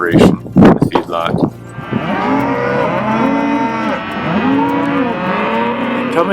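Cattle on an Idaho farm give long, loud, drawn-out moos close by, one low call after another. A few sharp knocks and thumps come first.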